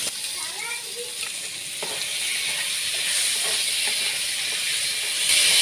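Tomatoes frying for Bengali-style ghugni: a steady, bright sizzle and hiss from the pan runs continuously and grows slightly louder toward the end, with no voices.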